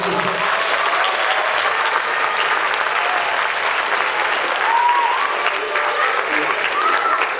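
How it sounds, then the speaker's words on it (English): An audience at a middle school band concert gives a loud, sustained round of applause that fills the hall for several seconds, with scattered voices mixed into the clapping. "Give them a round of applause, please."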